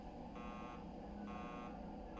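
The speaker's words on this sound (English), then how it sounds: "You're still beep booping because the data connectors got" Repeating electronic warning beeps from damaged data connectors in the spacecraft game Tin Can, pulsing in a steady on-off rhythm over a constant low hum, faint and without talking.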